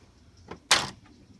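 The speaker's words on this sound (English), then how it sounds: "I really want this door to open up all the way" A brief plastic click and clack of a Kenner Ecto-1 toy car's door swinging on its hinges, close up and alone, with a softer tap just before it.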